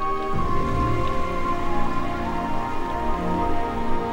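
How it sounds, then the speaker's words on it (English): Steady rain pours down continuously near a lake on a mountain hiking trail in Bulgaria, a dense hiss of drops striking a surface with low rumbling beneath, no voices. "Soon after that, some more rain came in"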